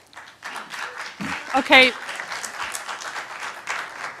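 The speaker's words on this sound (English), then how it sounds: "Please hold down the applause." Audience at a PVRPD board meeting breaks into applause, a burst of clapping that swells and fades while someone speaks briefly over it.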